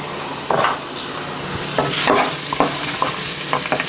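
Vegetables seasoned with thyme, basil and onion powder are stirred in a pot for chicken soup, with loud, close scraping strokes over a steady sizzle that builds and continues.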